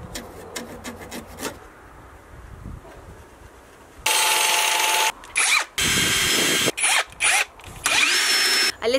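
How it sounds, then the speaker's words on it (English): A power drill driving screws into wood inside a van, with quiet handling and rubbing at first, then several loud whirring bursts of varying length separated by short pauses. "So next thing for me to do is clean up the edges and screw them in."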